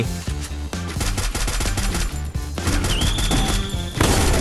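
Rapid video game gunfire in a fast shooter, loud and close, with sharp shots in quick bursts and a strong repeating rhythm, plus a whistling tone toward the end.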